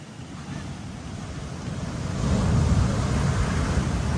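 Big ocean waves surge and churn at T-Rex Beach on Nusa Penida, a loud broadband roar of moving water that swells stronger halfway through, with wind buffeting the microphone.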